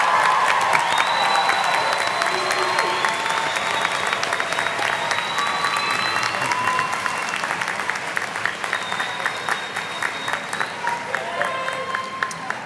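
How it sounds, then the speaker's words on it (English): A commencement crowd gives a sustained round of applause for graduates, families, faculty, staff and board: dense, steady clapping from many hands in a large hall, with a few faint cheers and voices mixed in. "Let's give the graduates, families, faculty, staff, and board another round of applause."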